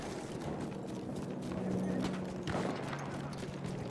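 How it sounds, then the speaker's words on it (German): Horse hooves clip-clop steadily over a busy, noisy Battlefield 1 game soundscape with a low hum and a brief thud midway. "Ein unnützes Pferd!"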